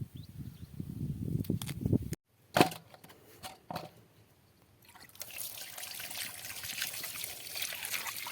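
Bamboo shoots are washed under trickling water, with a close rustle of handling, a sudden short gap, a few knocks, then a steady splashing flow of running water for the last few seconds.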